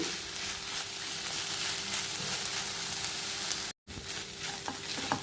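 Amaranth leaves frying with onions in a pan, a steady close sizzle with stirring scrapes throughout, briefly cut out near the end.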